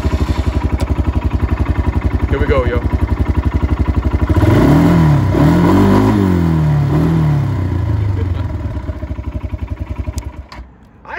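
A 2021 Kawasaki Brute Force 300 ATV engine idles with a fast, even putter, then revs up and down in several rising and falling pulls before settling back, loud and close, with a brief spoken remark at the start.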